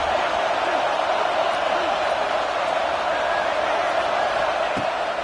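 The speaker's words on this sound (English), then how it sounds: "Decibels rising as the crowd gets behind this defense on third down." A Florida State football stadium crowd roars on a third-down defensive stand, a dense, sustained wall of noise holding steady and loud throughout with a few scattered shouts rising out of it.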